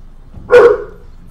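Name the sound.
dogs barking in Stronghold Crusader 2 video game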